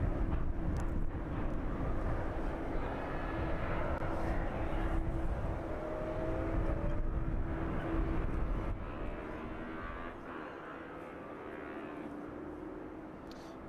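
A jet airliner touches down on runway 27 at East Midlands Airport in the evening. Its engines make a distant, steady roar with a low hum that slowly fades. No voices are heard.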